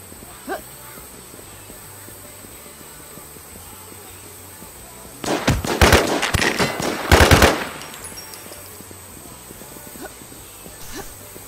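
Video game gunfire erupts as two loud, rapid automatic bursts in the middle of an otherwise quiet stretch with faint background noise.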